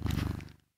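A house cat purrs right against the microphone in a brief, close, rumbling burst that fades out within a second.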